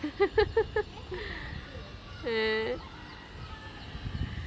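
Chickens kept on a neighbouring flat's balcony cluck in a quick rhythmic burst, then let out one longer drawn call, all faint and a little distant over low background noise.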